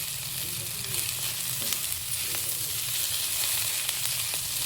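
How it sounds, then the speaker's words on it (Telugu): Boiled raw banana pieces and onions frying in a pan with turmeric, a continuous close sizzle with occasional soft stirring taps. "ఇప్పుడు దీంట్లో ఇది ఒక 2-3 మినిట్స్ ఫ్రై చేద్దామండి"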